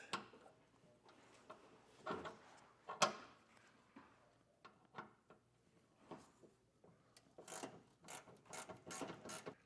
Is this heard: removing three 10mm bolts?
yes